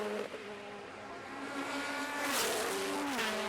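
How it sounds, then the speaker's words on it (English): Race cars at the Kirkistown circuit in Ireland roar past during a BOSS Ireland race, engines droning and rising in pitch as they sweep by at moderate distance. "Just sit here and listen to these cars coming by all day long."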